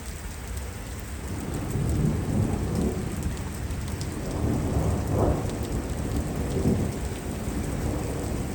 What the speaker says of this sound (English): the rain picks up just a tad bit. Oh, maybe a lot more